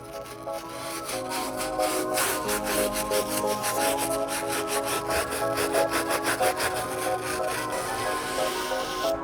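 A stiff bristle brush scrubs the midsole of a suede sneaker in rapid, loud, close back-and-forth strokes that continue without a break.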